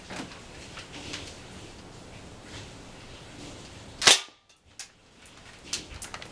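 A Stinger R36 airsoft BB gun fires a single sharp crack at targets, standing out loud and close against faint background noise, with a couple of small clicks and knocks after it.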